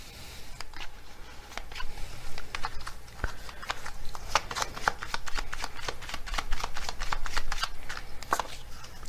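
Tarot cards are shuffled by hand, giving a close, steady run of crisp riffling flicks and soft slaps that continues throughout.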